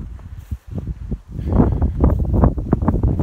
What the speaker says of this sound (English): wow, is it windy?